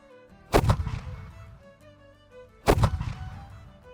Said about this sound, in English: Ready, fire cannon!